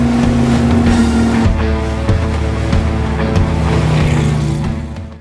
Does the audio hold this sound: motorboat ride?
yes